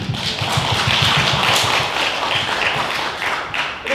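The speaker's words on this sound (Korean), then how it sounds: "박수 한번" An audience at a film festival talk gives a round of applause, a dense, loud clatter of many hands clapping that tapers slightly toward the end.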